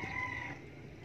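Chickens on a riverside farm where pigeons are also kept call out with a brief, fairly faint clucking cry over a low rumble, with no one speaking.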